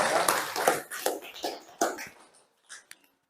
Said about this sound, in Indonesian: Tepuk tangan buat Salwa ya